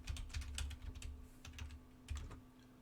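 Quick bursts of typing on a computer keyboard, irregular clusters of clacking keys with brief pauses, close and fairly quiet over a low steady hum.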